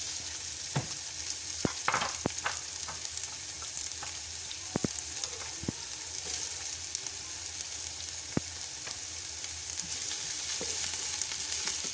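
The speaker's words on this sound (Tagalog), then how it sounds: "Lalagay na natin yung sibuyas." Onions frying in a large pan for chicken kabsa, crackling and sizzling steadily throughout, with sharp clicks and scrapes of stirring scattered over the hiss and no one speaking.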